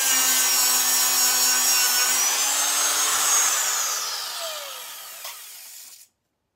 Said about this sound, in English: We just finished up the roughing in with the electric die grinder.